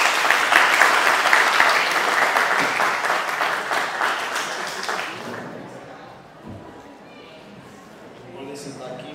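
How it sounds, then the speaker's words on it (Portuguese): An audience at a university law week event claps loudly to welcome two students to the stage. The dense applause holds for about five seconds, then fades into a quieter room with faint background sounds. "peço que vocês recebam muitas palmas"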